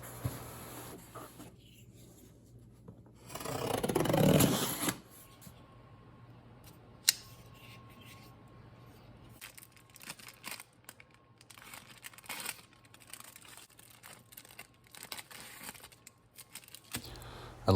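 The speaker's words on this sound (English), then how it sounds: "I love cutting the excess tape off the top of these flaps." A Sage 6 knife with an S90V steel blade slices excess packing tape off cardboard box flaps, a loud crisp cutting burst near the start followed by quieter crinkling and scraping handling sounds.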